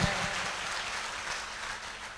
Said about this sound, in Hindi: ऐसे हमारे अविनाश जी के लिए भी एक बार जोरदार तालियां होगा।